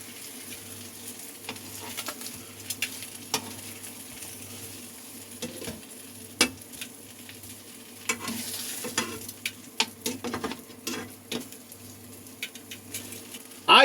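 Pork frying in a pan gives a steady, close sizzle, with scattered stirring and utensil clicks and a few sharper spatters through the middle and end.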